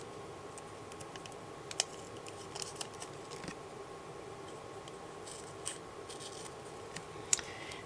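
Scissors trimming the white border off paper for a junk journal, with a few faint, sparse snips and clicks spread over a quiet, steady background hiss.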